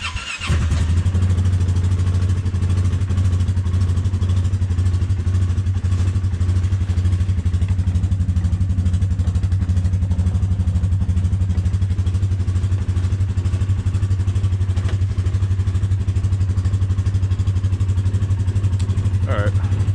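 A quad ATV engine cranks and catches within the first second, then settles into a loud, steady, close-up idle with an even throbbing rumble that holds for the rest of the clip.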